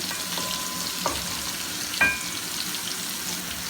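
Food frying and being stirred in a pan ahead of adding mutton, with a steady sizzle and a few scraping clinks of the utensil against the pan, close and moderately loud.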